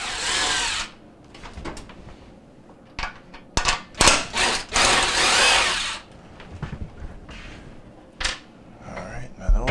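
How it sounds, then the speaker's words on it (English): Power drill backing quarter-inch screws out of a GE oven's control console, several short whirring bursts with pauses between, close and fairly loud, with a longer run in the middle. "There's a couple quarter inch screws, so we're going to go ahead and remove those now."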